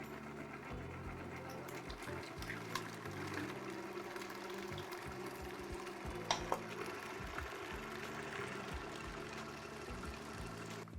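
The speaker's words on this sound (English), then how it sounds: "now we're going to incorporate those eggs, just adding them in as the mixer's on" Stand mixer with a paddle attachment beating eggs into chocolate chip cookie dough, a steady, fairly faint motor whir with a rhythmic churning pulse running throughout, with no voices.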